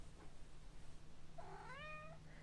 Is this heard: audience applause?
no